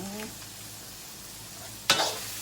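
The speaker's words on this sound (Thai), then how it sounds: "อันนี้คือรวนหมูก่อน" Pork stir-frying in oil, a soft steady sizzle broken near the end by one sharp scrape or clank of a spatula against the pan.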